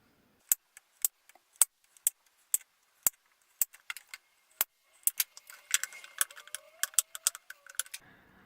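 A knife cuts a block of melt and pour soap into bars: a series of sharp, close, separate clicks and taps, then a busier stretch of rapid scraping taps near the end, with no voices.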